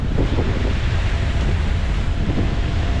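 Rushing floodwater fills streets and pours into houses, a steady, loud broadband roar that holds constant and unbroken throughout.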